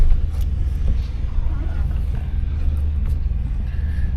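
A truck rolls past outdoors as a low, steady engine rumble that stays even in level for a few seconds without rising or fading.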